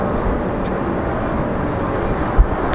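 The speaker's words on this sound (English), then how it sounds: "Pretty good arrival for the Cessna Citation." A Cessna Citation business jet arriving at Raleigh-Durham International Airport on a windy day, a loud, steady broadband roar with one brief bump near the end.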